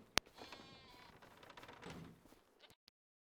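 A sheep bleats in the farming video game Farming Simulator 25, a single drawn-out wavering call near and fairly quiet, opened by a sharp click and ending in a brief knock.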